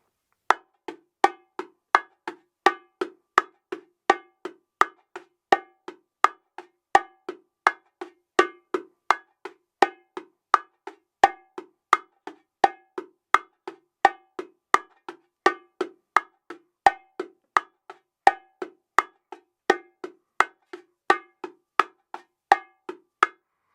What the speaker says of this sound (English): play the edge tone, and we're going to alternate thumbs and fingers and open sounds